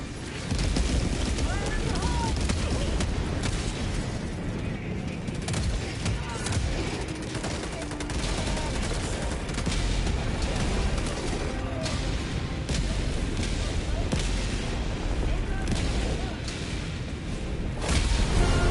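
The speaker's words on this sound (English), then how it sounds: "Orbital barrage incoming." An orbital barrage in Helldivers 2: dense, continuous explosions and gunfire rumbling throughout, with repeated heavy blasts and faint voices mixed in.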